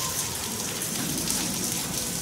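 Steady rain falling on surfaces outdoors, a dense continuous patter and hiss at even loudness throughout, close by and without talk.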